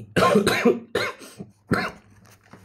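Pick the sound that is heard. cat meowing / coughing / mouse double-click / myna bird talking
coughing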